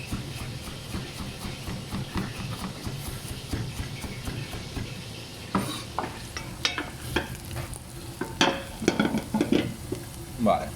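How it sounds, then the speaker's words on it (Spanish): Onion sizzles in a pan with reduced wine, a steady frying hiss broken by the clatter and scrape of a utensil stirring it, louder toward the end. "ya tenemos la cebolla con el vino reducido"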